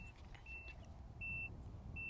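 A 2025 Chevy Tahoe High Country auto sense lift gate beeps: three short, high electronic tones at regular intervals over a low rumble of vehicle or outdoor background noise.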